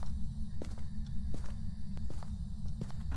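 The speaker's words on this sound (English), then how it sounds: "I heard your footsteps" Footsteps in a video game, a steady series of close, crisp steps over a loud low rumbling background, with no talking.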